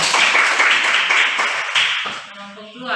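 Classroom of students clapping hands, a dense burst of close claps that thins out and fades near the end, with voices starting under it.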